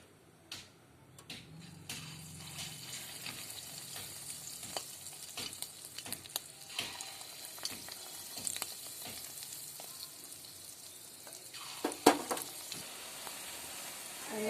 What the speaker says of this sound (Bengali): ডিমগুলো মেখে রেখেছিলাম, এবার কড়াই তেলের মধ্যে দিয়ে দেব,